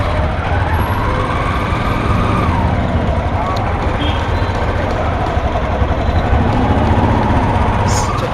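Heavy engine rumble of a traffic jam on a Dhaka road, with vehicles idling close by as a steady, loud drone that never lets up, broken only by faint horn tones.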